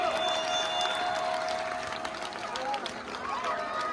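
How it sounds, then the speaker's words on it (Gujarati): An audience claps steadily throughout at a music show in Rajpipla in 2024, under a sustained musical tone. "તાળી બહુ ઓછી પડે છે તાળી જોરથી પાડો"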